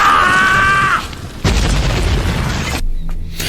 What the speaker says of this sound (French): Qui a pu déclencher une pareille explosion?